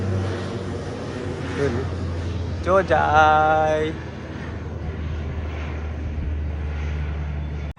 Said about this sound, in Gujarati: આ વિમાન છે ને અમારે ઉડ્યા જ કરે અહીંયાથી